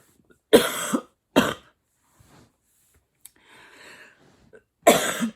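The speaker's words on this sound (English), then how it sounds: "It makes you cough." A person coughs in three harsh, forceful bursts, the first two close together and the third after a pause, with a quieter rustle and breathy throat sounds between them in an otherwise quiet room.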